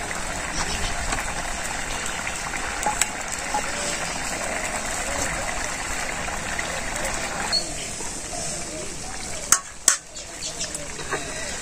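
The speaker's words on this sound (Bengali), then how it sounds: "মাছটা সুন্দর 5 মিনিট জাল হইব।" Fish frying steadily in a pan with cumin powder, a continuous close hiss of sizzling oil with a few sharp clinks of utensils near the end.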